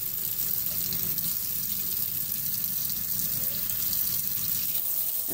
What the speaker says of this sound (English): I'm heating my water up till it's really hot. And I fill the bottle up.